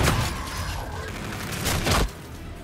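Rapid gunfire in the first-person shooter Call of Duty: Infinite Warfare, loud bursts of shots with mechanical clatter layered over game noise.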